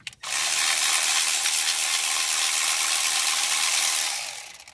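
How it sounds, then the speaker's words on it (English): Ratchet fitted with a Torx 45 bit backing out the four EGR cooler bolts on a Ford 6.0 Powerstroke, a close, steady ratcheting clatter that runs continuously for about four seconds with no talk. "Take a Torx 45, get your four bolts on here."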